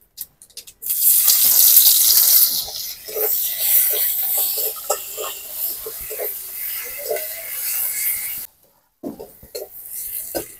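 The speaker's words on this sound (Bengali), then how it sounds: "এখন দিয়ে দেবো পেঁয়াজ কুচি।" Chopped onion hits hot oil already tempered with bay leaf and cumin, letting out a sudden loud sizzle that gradually softens into a lower crackle, with a few clinks and a short silence near the end.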